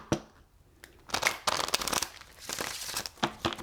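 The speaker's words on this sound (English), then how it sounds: "Cards are already shuffling, Franny, okay?" A deck of tarot cards is shuffled close up. Crisp riffling bursts and slaps come in several uneven runs with short pauses between them, and no one speaks.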